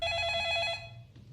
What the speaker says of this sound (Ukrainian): а що буде, якщо не брати телефон